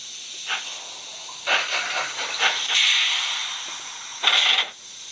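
Steady hissing steam with a handful of irregular puffy chuffs from a Bachmann model steam locomotive sound effect, one louder burst near the end.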